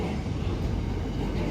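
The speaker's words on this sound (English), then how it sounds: "It is an intermodal train" Intermodal freight train hauled by Pacific National 186 class and NR class locomotives passing at Broadmeadow, Newcastle, a steady low rumble and roar of wagons rolling by at close range.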